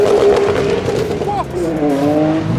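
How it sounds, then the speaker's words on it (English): A car skids with a sustained tire squeal, loud and close, the engine roaring underneath throughout, with a rising screech partway through. "Sickest skid you've seen, mate? This is probably one of the best."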